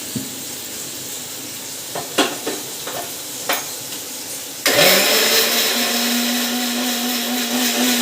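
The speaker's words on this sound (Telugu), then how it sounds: "ఇప్పుడు మనం ఈ టమాటాలు మిక్సీ పట్టుకుందాం" Sautéed tomatoes with curry leaves go into a mixer grinder: a few light knocks and clicks, then the motor kicks in with a loud, sustained whirring grind that runs to the end.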